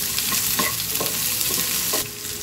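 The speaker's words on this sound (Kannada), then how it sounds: "ಈರುಳ್ಳಿ ಕೂಡ ಹಸಿ ವಾಸನೆ ಹೋಗೋ ತನಕನೂ ಫ್ರೈ ಮಾಡ್ಕೊಬೇಕು." Sliced onion fries in a pan with a steady close sizzle, punctuated by a few quick stirring scrapes.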